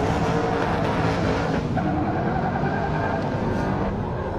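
BMW 3 Series cars drifting on a race track in a competition run, loud sustained engine roar with tire screech blending in close and unbroken.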